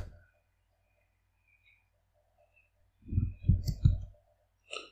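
A short burst of clicking taps on a computer keyboard or mouse rings out after near-silence, three or four quick close clicks with a final faint tap.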